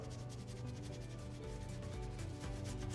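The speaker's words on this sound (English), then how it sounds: "And we'll just do a quick scrub." Brisk scrubbing of a wooden table with detergent to lift winter salt stains. Fast, rhythmic rubbing strokes sound close and continuous, with no talking.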